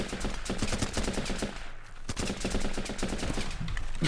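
Rifle gunfire in the video game Running With Rifles: rapid, sharp repeated shots in steady bursts, crisp and close, with a short pause midway before the firing resumes.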